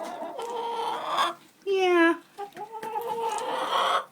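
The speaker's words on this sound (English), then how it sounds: "Nosy chickens." Backyard chickens gathered around a feed bucket cluck and squawk close by in short bursts, one loud drawn-out call standing out, while a person speaks briefly among them.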